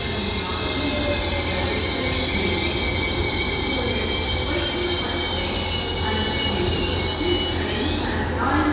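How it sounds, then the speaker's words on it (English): A London North Eastern Railway passenger train arriving at Doncaster Station rumbles loudly and continuously close by, with squealing wheels and metallic screeching as it slows, fading slightly at the very end. "Nice arrival here at Doncaster Station from London North Eastern Railway"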